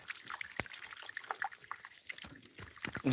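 Mountain stream water trickling and splashing over stones, with soft irregular burbles and drips close by and a louder splash near the end.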